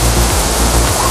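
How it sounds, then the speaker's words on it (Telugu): Water pours steadily over the Sarugudu waterfalls in a continuous broad rushing roar, loud and close, with no breaks across the short stretch. "చూస్తున్నారుగా వాటర్ ఫాల్స్ మొత్తం కలిపి."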